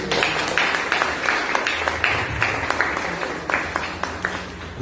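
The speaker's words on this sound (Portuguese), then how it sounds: "Eu queria que você aplaudisse a Deus." A congregation applauds God during a church sermon: a dense, continuous wash of clapping with individual claps standing out, and a voice faintly beneath it.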